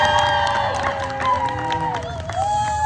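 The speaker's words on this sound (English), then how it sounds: "You can clap more than that if you'd like." A theater audience claps and cheers at a Christmas-themed Deadpool storytime, a steady crowd roar with whoops and scattered shouts, while a sustained tonal sound, likely music, runs underneath.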